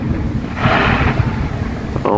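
Canada Day fireworks booming low like rolling thunder, a deep rumbling swell that rises and fades, with a brief sharper burst at the end.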